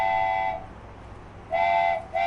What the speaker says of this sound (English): It is the train's whistle.